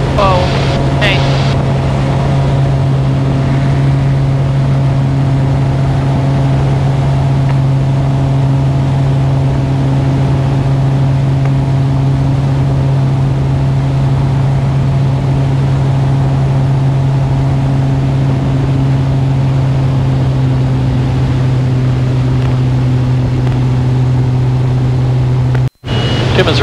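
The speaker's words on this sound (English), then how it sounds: "The obligatory flyby to check the landing area." Steady, loud drone of a Cessna 185 Skywagon amphibian floatplane engine during a low flyby over a landing area, holding an even pitch for the whole stretch before cutting off abruptly near the end.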